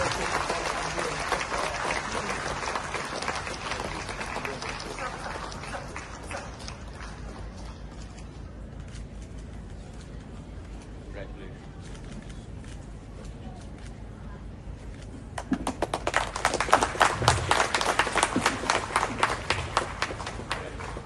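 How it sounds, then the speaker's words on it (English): An audience at a foundation-laying ceremony for a Sohra tourism circuit in Meghalaya gives a round of applause, clapping that fades to a quieter patch before a louder, nearer burst of claps returns. "Can we all support this memorable event with a round of applause?"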